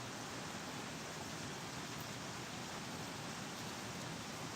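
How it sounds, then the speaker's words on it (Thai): Steady rain falling outdoors on a cold day in a rural Thai home setting, a dense continuous hiss with no breaks and no voices. "ฝนกำลังตก"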